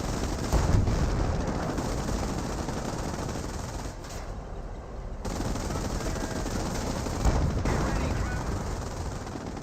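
A machine gun bunker in Company of Heroes fires in long, dense, continuous bursts of gunfire over a battlefield din, briefly easing around the middle and at one later point before the heavy fire resumes.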